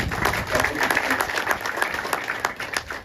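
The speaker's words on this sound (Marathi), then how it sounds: "एकदा त्यांच्याकरता जोरदार टाळ्या होऊ द्या." A large outdoor crowd at an India alliance public rally in Bankot, Raigad gives dense, sustained applause and clapping for the women present, moderately loud and continuous throughout.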